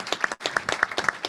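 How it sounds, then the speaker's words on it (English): A short burst of individual claps at a plenary session of a mountaineering federation's general assembly, a few distinct hands striking close to the microphone in an uneven rhythm. "Could we have a round of applause, please, for the work of the commission?"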